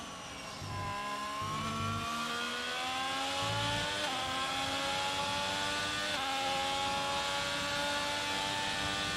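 Onboard F1 race car engine in a racing video game at the Canada circuit, a loud high-pitched whine holding steady at full throttle with rising harmonic tones and brief shifts, continuous and close with no talking.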